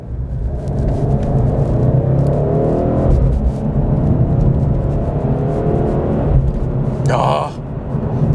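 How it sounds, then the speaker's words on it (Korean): A BMW M850i xDrive Gran Coupe with M Performance exhaust, driven in Sport Plus mode, gives a deep, steady engine and exhaust rumble with a rising whir. Someone talks over it throughout. "이 상태에서는 배기음도 조금 높게 상승을 합니다."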